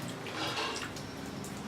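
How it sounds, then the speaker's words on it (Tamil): Tamarind water is poured into fish curry simmering in a clay pot, a brief liquid splash and trickle lasting under two seconds, quiet and close. "1/2 லெமன் சைஸ் புளியை ஊற வச்சு புளித்தண்ணி எடுத்திருக்கேன், சேர்த்துக்கிறேன்."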